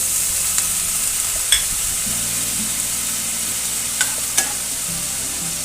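Small chillies and jackfruit seeds stirred in a frying pan, a steady hissing sizzle throughout with a few light scrapes of the spatula, close and fairly loud, with no voices.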